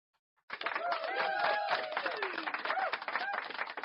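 Hand clapping from a small group, a dense run of claps starting abruptly and continuing steadily, with voices talking over it.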